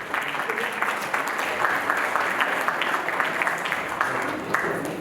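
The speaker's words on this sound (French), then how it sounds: "je vous demande de l'applaudir" Audience applause for Mr. Mauritius 2018 at a Miss Mauritius 50th anniversary pageant, a dense, steady clapping from a crowd that continues at even strength throughout, with some voices mixed in.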